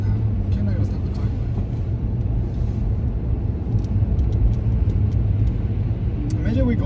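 A car rolls along a road with a steady low engine and tyre rumble throughout, while voices talk inside the vehicle.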